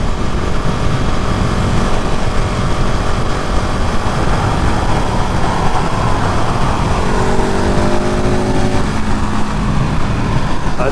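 A 2020 KTM 690 Enduro R motorcycle running on a motorway at steady speed during break-in, its engine drone heavily mixed with loud, constant wind roar, with a faint rising tone late on.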